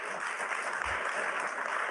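A crowd applauds after a line in a speech, a dense, steady patter of many clapping hands held at an even level throughout.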